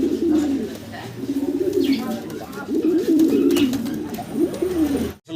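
Pigeons kept as a breeding pair give repeated throaty cooing in a close, continuous series of rolling calls, with soft rustling and background noise around them and a sudden stop at the end.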